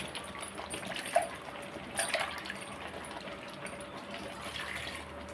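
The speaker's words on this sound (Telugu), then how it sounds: "ఇప్పుడు కొన్ని నీళ్ళు వేస్తానండి" Water is poured into a clay pot of simmering fish curry, a soft trickle with light splashy bursts, faint and close, with no talk.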